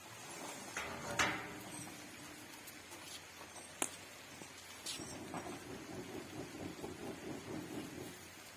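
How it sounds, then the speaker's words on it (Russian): Rain begins falling outdoors during hot smoking of crucian carp, a soft steady patter with scattered sharp drips and knocks, plus a faint rhythmic tapping in the second half. "У нас дождик пошел, темно стало."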